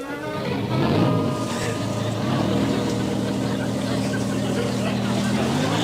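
PT boat engines rumble steadily at a constant throttle, a loud, continuous drone that holds throughout.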